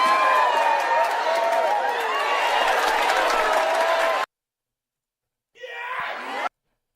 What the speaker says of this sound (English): I'm trying to find the applause clip